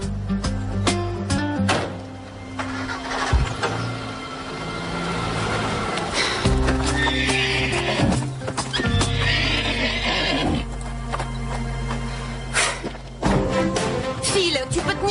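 A horse whinnies loudly amid clopping hooves and shuffling, with a steady hum and occasional voices in the background.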